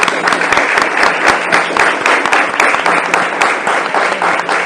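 Dense, steady applause from an audience closing a panel talk on art, teaching and inclusion, a loud continuous wash of many hands with no letup.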